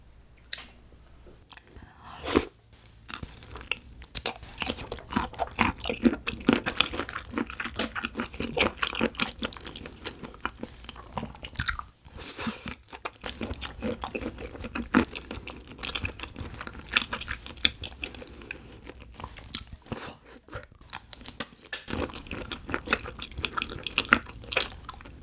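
Close-up wet chewing and crunching of plump marinated soy sauce shrimp (saewoojang), steady and continuous with squelchy bites and slurps over a long stretch, no talking.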